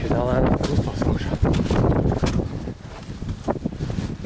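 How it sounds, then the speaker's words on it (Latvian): Gusty wind buffets a microphone on a mountain trail up Carrauntoohill, Ireland's highest peak, a steady broadband roar that swells in bursts, with voices talking over it. "Brīžiem uzpūš normāls vējiņš"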